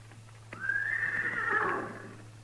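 A horse in a Western radio drama gives a single long, rising whinny at close range over a low steady hum, with no voices.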